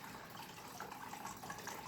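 Steady, dense rush of water, like a tap running or liquid being poured, continuous and fairly close, for rooting spider plant cuttings, with no voices.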